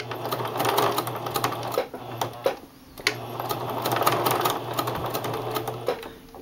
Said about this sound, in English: I'm going to sew a few stitches and then I'll turn it slightly